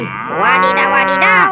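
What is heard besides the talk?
cow mooing, toy animal sound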